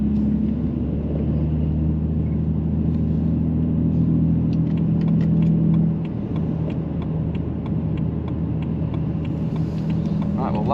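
A car fitted with a custom DPF delete downpipe idles and rumbles with a deep, loud exhaust drone, the low throb shifting slightly midway as the engine note changes.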